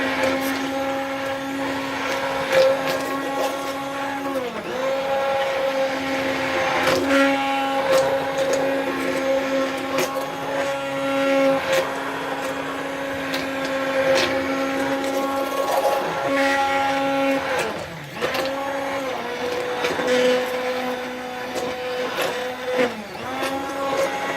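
A blender mixing a liquid castile soap mixture, a steady motorized whir with pitch shifts and brief dips as the load changes, running continuously for the whole stretch.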